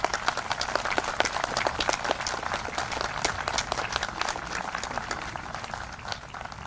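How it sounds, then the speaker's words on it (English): Audience applause at an outdoor Memorial Day ceremony at Harbor Lawn, a steady wash of many hands clapping that holds evenly for several seconds before tapering slightly at the end. "Can we give him a large applause?"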